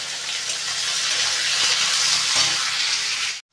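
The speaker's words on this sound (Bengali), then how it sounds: "পেঁয়াজটাকে ভালো করে লাল লাল করে ভেজে নেব" Chopped onion frying in a pan, a dense, loud, even sizzle heard up close that stops abruptly at the end.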